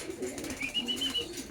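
Racing pigeons cooing softly at a loft after a training toss, low murmuring calls continuing steadily over faint background noise.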